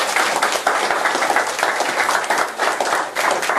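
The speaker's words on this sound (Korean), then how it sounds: "여러분 박수 부탁드립니다." Steady audience applause at a lecture, dense and continuous, many hands clapping at once without pause.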